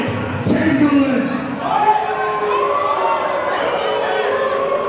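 Indoor wrestling show crowd murmuring and chattering, an unimpressed buzz of many voices at steady moderate level, with a siren-like rising tone sweeping through near the start.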